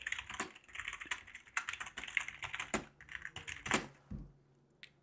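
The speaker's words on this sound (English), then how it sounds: "you will have to type in this command" Rapid bursts of crisp clicks from a computer keyboard as a command is typed into a Linux terminal, close and clear, with a final few isolated taps before the keys go quiet.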